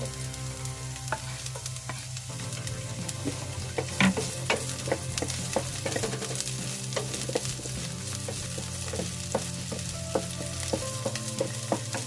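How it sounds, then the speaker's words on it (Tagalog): Chopped onion sizzles steadily in a hot pan, with a continuous frying hiss and scattered crackles and stirring clinks throughout, close and with no voices. "Ilagay na natin yung ating onion."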